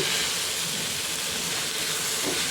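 Bitter gourd sautés with onion and tomato in a pan, giving a steady, dense, hissing sizzle that stays close and even throughout without pauses.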